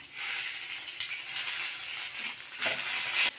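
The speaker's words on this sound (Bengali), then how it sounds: "রাঁধুনি ফোড়ন দিয়ে দিয়ে দেবো আদা বাটা" Radhuni seeds and ginger paste sizzle in hot oil, a steady close crackling hiss with a brief louder burst near the end, no voices.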